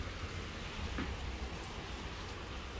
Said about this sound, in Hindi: कैसे बारिश हो रही है।